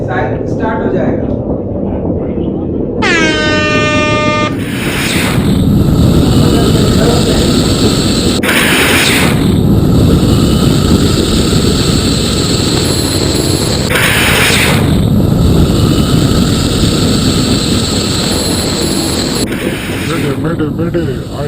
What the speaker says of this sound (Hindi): अब जैसे ही मैं बटन प्रेस करूंगा तो मिसाइल स्टार्ट हो जाएगा।